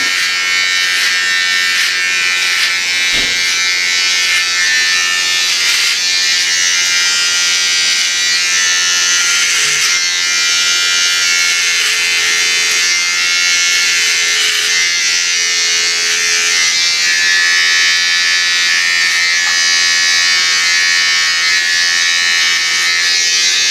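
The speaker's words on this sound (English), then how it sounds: "So these will probably be my backup clippers." An Andis inSight Slim cordless trimmer buzzes continuously at close range with a steady high-pitched motor hum, loud and unbroken.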